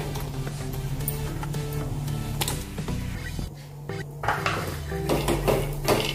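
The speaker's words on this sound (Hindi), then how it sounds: "अभी इसमें डालेंगे काजू और साथ में डाल देंगे बादाम भी" Cashews and almonds tipped into a pan, followed by clinking, rattling and scraping of cookware under a steady background hum, close and moderately loud.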